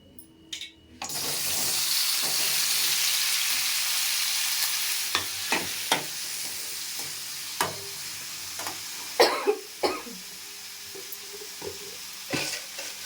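Tomatoes drop into hot oil in a kadai for chili chutney and burst into a loud, steady sizzle, with sharp spoon scrapes and clinks sounding at intervals over the frying hiss; no voices.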